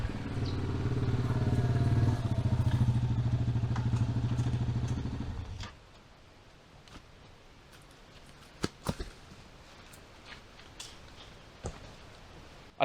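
An ATV engine drones steadily and fairly loud for about five seconds while riding outdoors, then cuts off, leaving quiet surroundings broken by a few sharp clicks and thumps.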